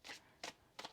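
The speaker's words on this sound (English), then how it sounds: "One more shuffle, please, and thank you." Tarot cards are shuffled in three quick, crisp riffling bursts, close by and evenly spaced, with no talking.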